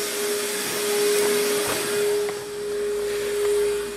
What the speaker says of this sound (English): This is a kind of shop vac. It's quite an old one, but it's going to do the job.